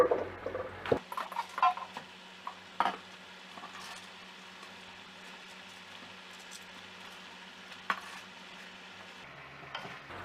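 Vegetables for a pork-belly chap chai are stir-fried in a pan over high heat with two spatulas, giving quick clattering scrapes early on before settling into a faint, steady sizzle with occasional taps.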